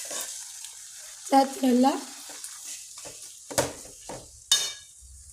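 Fish roe frying in a pan, a soft sizzle under intermittent stirring scrapes and a few sharp clinks of utensil on metal, while someone speaks in Tamil over it.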